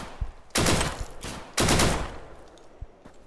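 Deadside gunfire comes as two loud bursts of rapid shots, each trailing off into echo, with a few sharp single cracks between them.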